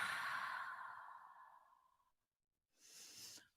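A single long, soft exhale during a yoga session, fading out over about two seconds, followed after a short silence by a briefer breathy sound, close and quiet.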